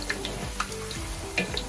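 Whole spices, including cinnamon, cloves, cardamom, star anise and bay leaf, sizzling in hot oil in a pot for mutton biryani, a steady close frying crackle with faint clinks.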